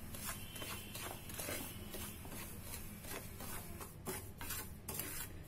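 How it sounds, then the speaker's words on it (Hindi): Semolina dry-roasting in a pan without ghee, with steady stirring and scraping through the whole stretch and light grainy rustle, occasional sharper scrapes of the utensil against the pan. "पहले हम सूजी को हल्का गोल्डन ब्राउन होने तक इसको भून लेते हैं।"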